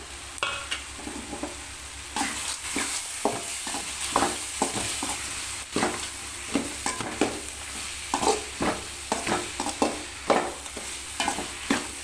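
Fried okra is stirred into tomato masala in a pan over a constant low sizzle. A spatula scrapes and taps in quick, uneven strokes throughout, close and clear.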